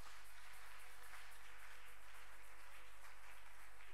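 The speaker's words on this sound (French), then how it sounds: "Est-ce que nous pouvons acclamer pour le Dieu de gloire?" A church congregation applauds together in a steady, fairly faint patter of many hands over a low electrical hum, with no voices standing out.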